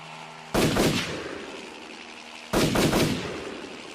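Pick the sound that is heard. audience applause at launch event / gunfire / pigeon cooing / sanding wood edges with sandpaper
gunfire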